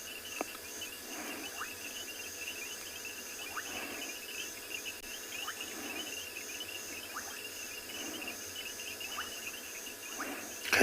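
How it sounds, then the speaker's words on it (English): Frogs call at dusk on a sunset safari at the Tswalu reserve: soft, regularly spaced croaks about once a second over a steady, high insect chorus, with no talking. "Can you hear the frogs?"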